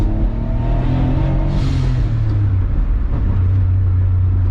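An Autozam AZ-1 on Navic coilovers rolls over manhole covers on a lumpy, patched city street, giving a steady loud low engine and road drone with faint bumps and thumps throughout.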